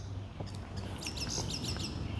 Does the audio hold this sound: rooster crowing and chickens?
no